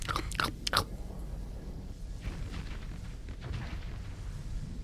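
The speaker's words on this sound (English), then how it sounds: "The sound of the high intensity laser just destroying armor and getting into the hull." High intensity laser crunching through ship armor into the hull in the space game Starsector: sharp crackling bursts at first, then a denser grinding crunch continuing under low rumbling impacts, no talking.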